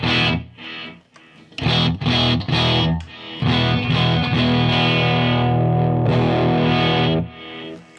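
Harley Benton TE-52 Telecaster electric guitar played through a Marshall Plexi amp that is not entirely clean, with loud, gritty strummed chords in short choppy bursts, then longer sustained ringing chords, with no talking.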